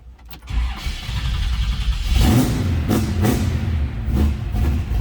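A 1967 Chevrolet Camaro RS coupe with a 383 stroker V8 cranks and fires up cold, then settles into a loud, rough, lumpy idle with occasional surges, close by and alone.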